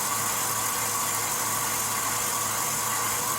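A stand mixer whips egg yolks in a bowl with a steady, unbroken motor whir and a faint hum that runs evenly from start to finish, with no voices.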